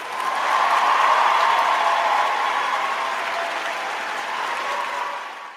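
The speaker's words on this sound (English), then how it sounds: "I'm going to give him a round of applause." A crowd gives a full round of applause, dense and loud clapping swelling early then holding steady before tapering off near the end, with no clear speech over it.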